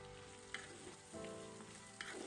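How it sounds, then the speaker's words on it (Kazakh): Cabbage and onions fry in a pan with a steady, quiet sizzle, broken by a couple of brief stirring scrapes, close and without voices. "Одан соң капустаны салып, 5-7 минут көлемінде қуырып алыңыздар."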